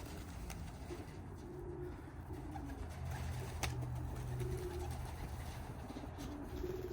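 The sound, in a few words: young pigeons in a loft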